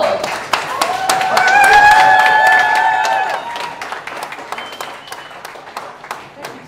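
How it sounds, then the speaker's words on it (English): An audience at a sci-fi banquet claps, swelling quickly and then thinning into scattered individual claps, while a voice rings out over the start and speech carries on through it. "I'd like you to raise your hands and give a round of applause to the Borg Diva, La Cutie of Borg."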